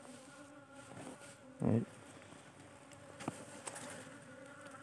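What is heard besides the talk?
bees flying in and circling down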